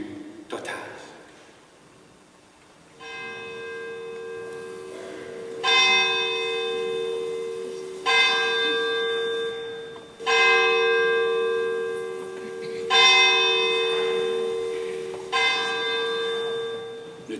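A single church bell rings in slow, evenly spaced strokes, each clear ringing tone decaying before the next, loud and close with a brief quiet lead-in.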